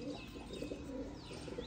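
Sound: pigeon cooing

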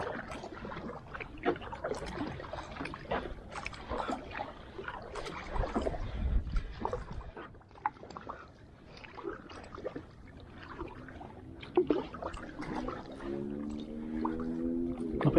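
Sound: paddling a rowboat along Bang Mot canal

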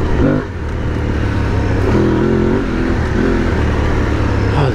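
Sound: Aprilia Tuareg 660 motorcycle engine accelerating

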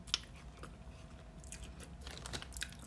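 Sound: chewing a boiled potato from seafood boil

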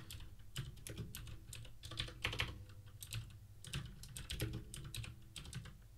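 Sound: typing tmux install command on computer keyboard

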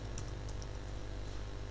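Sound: typing a command on a computer keyboard

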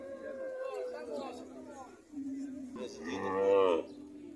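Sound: cattle at a livestock fair

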